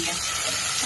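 Onion and curry leaves fry in a pan with a loud, dense, steady sizzle that fills the whole moment, with no pauses and no voices.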